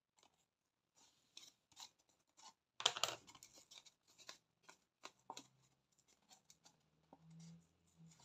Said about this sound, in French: Donc on va pouvoir venir couper l'excédent.